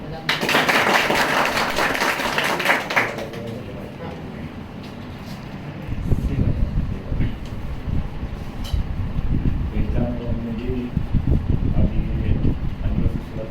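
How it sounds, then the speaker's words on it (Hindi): A crowd claps loudly in applause for three seconds at a tribal security march gathering in Temagaon village. Talk and crowd noise continue after the clapping fades. "सबका जोरदार ताली बजाते"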